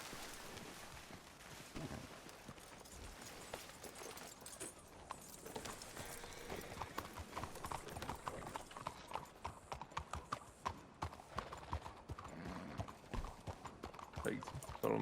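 Horse hooves clip-clop at a steady, brisk pace in a video game, with a busy wash of background noise and no talking.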